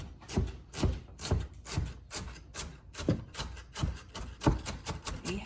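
Knife dicing an onion on a cutting board, a close series of quick, uneven chopping knocks with soft scraping between them.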